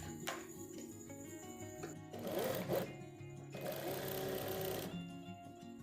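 A sewing machine stitches the side seam of a kurti in steady whirring bursts, with a pause in between and a brief lull near the end, close and moderately loud with no talking.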